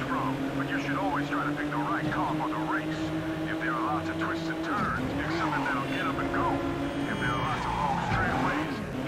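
A Lotus Exige engine in the Midnight Club 2 racing game, revving and shifting with rising and falling tones as the car weaves, mixed with game effects and close, loud throughout.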